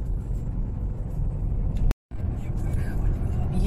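Steady low road rumble inside a car driving on a smooth highway toward Italy, continuous and fairly loud, broken by one brief dropout, with a person talking over it.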